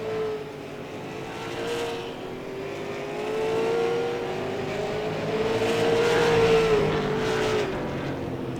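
Late model stock cars race at Langley Speedway, engines droning loudly and continuously, the pitch rising and falling as the pack sweeps through a turn.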